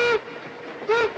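Narrow gauge train on a western railroad, two short tonal whistle-like squeals separated by a quieter rolling rumble of the cars on the rails, no voices.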